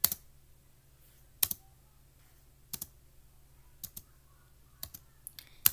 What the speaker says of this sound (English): So all you need to do is press spacebar.